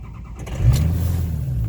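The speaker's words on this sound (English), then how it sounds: "Truck fires right up like it should." A 2003 Ford F250 FX4 Powerstroke diesel pickup, lifted and cold, cranks briefly and fires up, settling into a steady low idle rumble close by.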